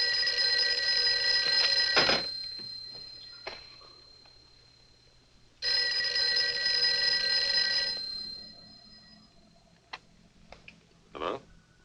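An old telephone bell rings in two long, loud bursts of about two seconds each, separated by a pause, followed by a few faint clicks and handling sounds, in an old film scene.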